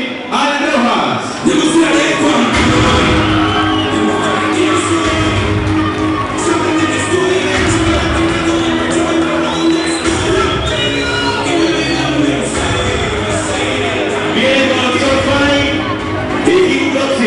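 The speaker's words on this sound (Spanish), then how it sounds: "ovación de la ciudad de Medellín, Alan Rojas" A packed fight-night crowd in Medellín roars an ovation for boxer Alan Rojas, with sustained loud cheering, whoops and scattered shouts in a dense, continuous wall of noise.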